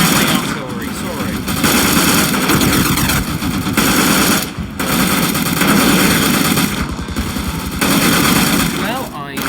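Gunfire and artillery in a war video game: loud, dense bursts of rapid shooting and booming blasts, broken by brief lulls, with a voice speaking over the battle.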